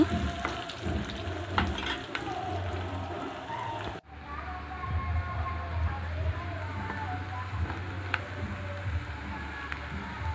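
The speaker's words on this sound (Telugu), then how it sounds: "అలాగే ఉల్లిపాయ ముక్కలు కూడా వేసుకోండి. ఇప్పుడు వీటన్నింటినీ బాగా వేయించుకోండి." Dried snails, onion pieces and green chilli pieces fry in a pan with a low, steady sizzling hiss. A brief dropout cuts in midway before the even crackle resumes.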